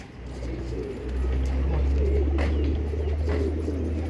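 Breeding pigeons coo in a loft at Phaltan, low rolling calls overlapping close by above a steady low hum that grows louder partway through.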